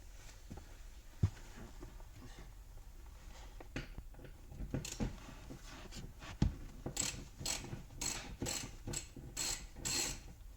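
A ratchet wrench clicks close by as bolts holding the seats in a BMW interior are loosened, starting with scattered knocks and scrapes and turning into a quick, even run of ratcheting clicks toward the end.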